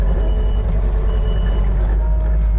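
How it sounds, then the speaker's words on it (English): A spreader truck for hauling poultry litter runs on a farm, its heavy, steady low rumble loud and close throughout, with faint high chirps above it. "Right there's the spreader truck."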